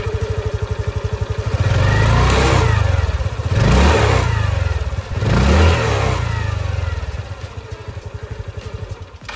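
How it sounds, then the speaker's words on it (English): Exhaust of a Hero Destini 125 scooter with a 125cc single-cylinder engine and new chrome-plated exhaust, idling with a pulsing beat and then blipped through several loud revs that rise and fall, close up with no talking. "Talking about the exhaust, here is how it sounds."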